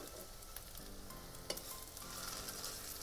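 Soya chunk kebabs frying in oil over a medium flame, a steady close crackling sizzle with a few small pops, no voices.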